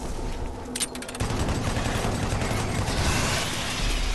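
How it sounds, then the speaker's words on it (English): Rapid continuous chain gun fire in the Doom 3 video game, a dense sustained rattle of shots blended with game ambience and rumble, steady and loud throughout. "I'll just chain gun you, no big deal."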